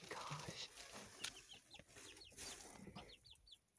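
Leghorn chickens clucking softly as they settle to roost in a coop beside a tiny house, with short chirpy calls repeating over a steady background hiss and a few rustles.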